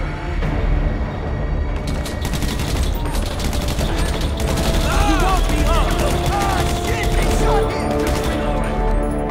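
Rapid bursts of gunfire in a GTA 5 zombie survival game, loud, dense and continuous over a rumbling game soundscape with chirping effects in the middle.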